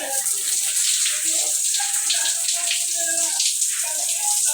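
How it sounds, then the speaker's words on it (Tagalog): Water sprays steadily from a newly installed home shower fed by a 42-gallon pressure tank and a 1HP electric pump, a continuous close hiss that stays even throughout with faint voices in the background. "Then ito yung shower."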